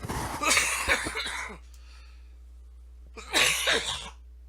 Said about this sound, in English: 6 minutes in and we coughed